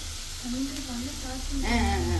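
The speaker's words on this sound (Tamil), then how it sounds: "நன்றாக வெண்ணெய் விட்டு வதக்கி கொள்ளவும்." Butter sizzling steadily in a pan as ingredients are sautéed for a tofu gravy, a soft continuous frying hiss that grows a little louder near the end, with a person talking over it.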